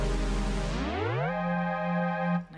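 A KORG opsix synthesizer plays a sustained pad that glides smoothly downward in pitch, then settles on a steady held chord before cutting off; no voices, alone.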